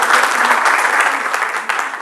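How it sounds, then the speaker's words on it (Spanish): An audience claps for volunteers at a church gathering, with dense, loud applause filling the short burst and a voice faintly underneath. "Otro aplauso para los voluntarios."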